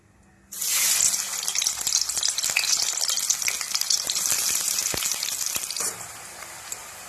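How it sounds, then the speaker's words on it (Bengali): Chopped onion hits hot oil in a wok and bursts into a loud, dense sizzle that starts abruptly, crackles steadily for about five seconds, then eases off. "তেল গরম হয়ে গেলে দিয়ে দেবো পেঁয়াজ কুচি"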